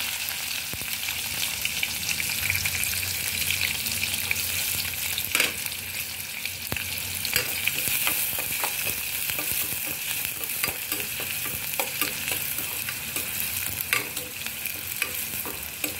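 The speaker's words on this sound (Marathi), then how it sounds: "त्याच्यामध्ये तेल टाकलेलं आहे, जिरं टाकलेलं आहे आणि आता कढीपत्ता टाकलेला आहे, कांदा टाकलेला आहे." Cumin, curry leaves and chopped onion fry in hot oil in a kadai, giving a continuous close sizzle with occasional stirring scrapes throughout.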